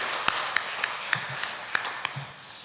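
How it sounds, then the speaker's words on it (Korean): Sparse, evenly spaced hand claps ring out at a church Bible study, a small group applauding softly with a moderate, steady rhythm for under three seconds. "우리 다시 한번 우리 박수로 축하드리도록 하겠습니다"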